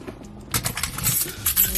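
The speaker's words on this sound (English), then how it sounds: "put my keys in my purse" A set of keys jangles and clinks in short metallic bursts, fairly close, as they drop into a purse outside a parked car, with no talk.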